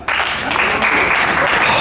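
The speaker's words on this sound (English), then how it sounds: "Wow, clap over 55." Brief, dense clapping from a comedy-show audience bursts in suddenly and carries on evenly for a moment, close and fairly loud.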